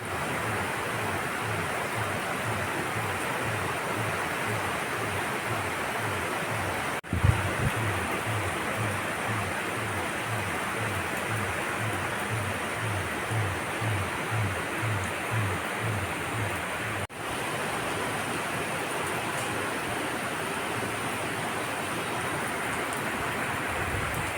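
Steady rain hisses evenly for the whole stretch, with a faint rhythmic low thumping underneath.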